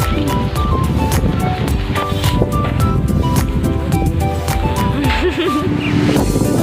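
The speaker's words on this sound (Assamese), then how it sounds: "ঈশান বহুত ধুনীয়া বতাহ দি আছে আমাৰ ইয়াত" Outdoors near a river, a strong breeze rumbles and buffets continuously at close range, with a brief voice rising over the gusts.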